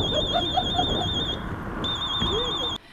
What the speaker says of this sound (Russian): В фонде социального страхования звучит пожарная сигнализация.